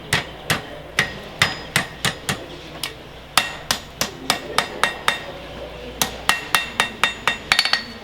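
A blacksmith hammers a forged blade on the horn of an anvil, with about twenty sharp, ringing metallic strikes in a steady rhythm and one brief pause midway.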